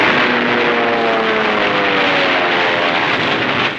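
A propeller-driven warplane roars loudly overhead during the 1944 battle for Tarawa, its steady drone carrying a gently sliding engine pitch throughout with no voices.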